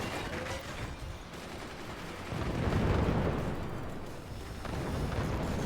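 Missile and artillery fire in the video game Forts rolls as a steady, rumbling barrage of overlapping blasts, building to a louder peak midway and staying dense throughout, with no talking.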